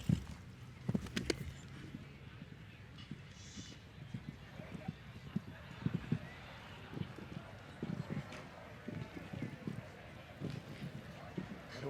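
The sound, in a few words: horse galloping and jumping on a show jumping course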